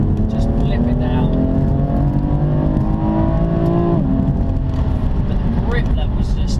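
A BMW M4 Competition engine rises and falls in pitch as it revs through downshifts, loud and close from inside the car, with a steady rumble and someone talking throughout.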